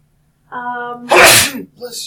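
A single close, loud sneeze, preceded by a short rising intake of breath.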